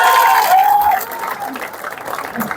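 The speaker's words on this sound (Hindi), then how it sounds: "ये ताली भरने के लिए" An audience at a rally claps in a steady, dense patter. A thin high tone rings out at the start before the applause carries on more softly and evenly to the end.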